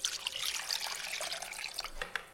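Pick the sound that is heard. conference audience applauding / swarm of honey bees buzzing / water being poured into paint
water being poured into paint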